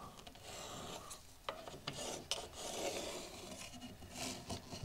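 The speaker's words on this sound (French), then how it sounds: "je vais déjà me faire un premier trait là" Pencil drawn across a wall surface to mark a first line for a cable conduit, a dry scratchy rasp with a few short strokes, close and fairly quiet, no talking.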